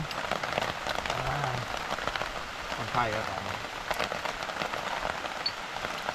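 Rain pours onto surfaces outdoors in a steady, dense patter of drops, close and continuous, with someone talking briefly over it.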